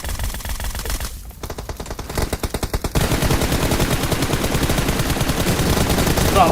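Rapid automatic gunfire in a mobile shooter game played on a low-end device, a dense continuous stream of shots that briefly thins to separate bursts before resuming loud and sustained.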